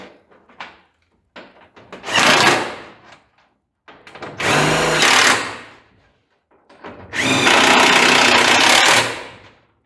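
A power tool drives and tightens bolts on the front fender of a 1940 Chevy coupe, running in three separate bursts of whirring, ratcheting noise, with small clicks and handling sounds in the pauses between them.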